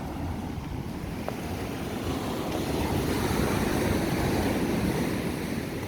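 Ocean surf at Echo Beach in Canggu, Bali, a steady broadband wash of small waves rolling in over rocks, continuous and fairly close, with some wind noise on the microphone and no talking.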